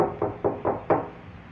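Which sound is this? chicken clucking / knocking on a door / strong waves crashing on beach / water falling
knocking on a door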